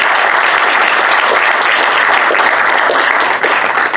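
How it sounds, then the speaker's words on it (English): A crowd gives a loud, sustained round of applause for veterans at a gathering, dense and close clapping from many people that stays full and even for the whole stretch. "Another round of applause for the veterans."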